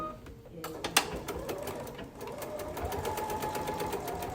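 A sewing machine stitches a fluted fabric bowl, running in a steady fast whir of needle strokes after a brief knock, close and continuous, with no talk over it.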